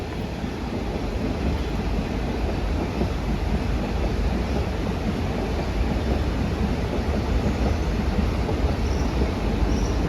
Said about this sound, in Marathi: समोरून ट्रेन पास होते बघा